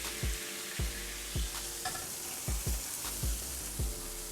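Chicken livers sear in an oiled frying pan, a steady bright sizzle broken by regular soft thumps as the pieces are shifted, close and continuous with no talking.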